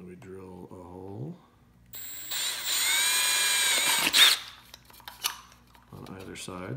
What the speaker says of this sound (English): And we drill a hole